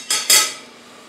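A metal inner pot is set into an Instant Pot with two quick clanks in close succession, then a short ringing fade, after a beef roast has been seared.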